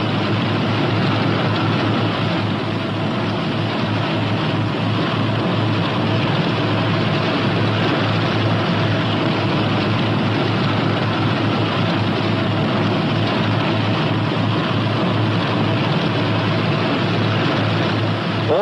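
P-61 Black Widow twin-engine aircraft taxiing, a steady, loud low drone of piston engines that holds evenly throughout without pause.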